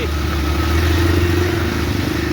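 A motorcycle engine drones steadily up close while riding, a low rumbling hum that holds without a break throughout.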